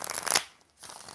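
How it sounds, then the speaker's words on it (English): Tarot cards are shuffled in quick, crisp riffling bursts, soft and close, a short pause falling between two shuffles. "we're going to call out 4 shuffles now."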